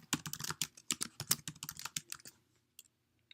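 Rapid typing on a computer keyboard, a dense flurry of close, crisp key clicks for about two seconds, then a few isolated taps before quiet.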